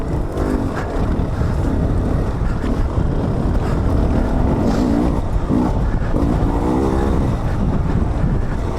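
A 2020 Beta 300RR two-stroke dirt bike heard while being ridden, its engine a loud, steady, buzzing drone that shifts gently in pitch as the throttle varies, mixed with rushing wind noise close to the rider.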